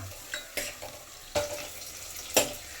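Sliced onions fry in a pan until golden brown, heard as a faint low sizzle broken by three or four sharp clinks and scrapes of a spoon against the pan.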